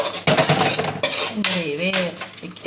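Chicken curry with Kashmiri chili is stirred in a pan, giving a few quick metallic scrapes and clinks of a spoon against the pan, close and fairly clear, with a voice speaking briefly in between.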